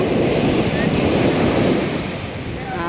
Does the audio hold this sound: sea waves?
yes